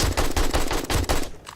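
Rapid bursts of gunfire in the survival video game 7 Days to Die, about seven loud, evenly spaced shots in quick rhythm over 1.3 seconds, then falling quiet.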